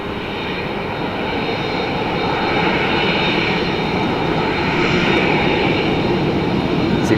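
An Aer Lingus Airbus A330 at Dublin Airport gives a loud, steady engine roar that swells gradually, heard from nearby outdoors without talk.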